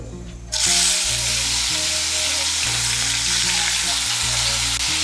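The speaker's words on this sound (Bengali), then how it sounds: "তেলটা গরম হয়ে গিয়েছে, এর মধ্যে মাছগুলো ভেজে নিচ্ছি।" Shrimp drop into hot oil and fry with a loud, steady sizzle and crackle, close up, for several seconds after a quiet start, with no talking.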